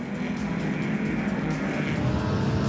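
Race cars running side by side on a circuit track, giving a continuous loud engine roar and drone with no breaks.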